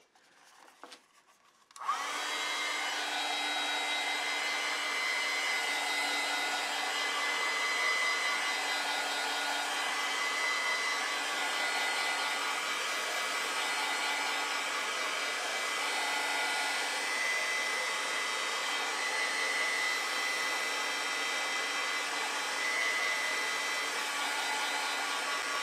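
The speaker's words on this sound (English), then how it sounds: "I want to dry that because I don't want this to get really sopping wet" A hair dryer switches on after a brief quiet moment and then blows in a loud, steady, unbroken whir close by while drying acrylic paint on a painting, with no talking.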